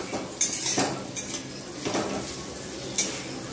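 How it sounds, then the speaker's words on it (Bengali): Onions are stirred in a pan, with repeated scraping clinks of a utensil against the metal over a faint background sizzle. "নাড়বো, কন্টিনিউ নাড়তে থাকবো পেঁয়াজগুলো।"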